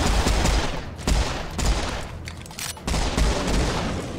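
A weapon fires in Serious Sam 4 in rapid, loud bursts of heavy shots with sharp booming impacts, briefly pausing between volleys before resuming.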